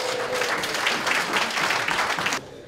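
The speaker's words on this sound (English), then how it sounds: "could we get a cheer for the brave, strong Daniela?" An audience claps and cheers for a performer, a dense burst of applause that holds steady for a couple of seconds and then stops abruptly, leaving a quiet room.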